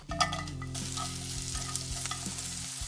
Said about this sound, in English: half an onion and we're gonna saute it.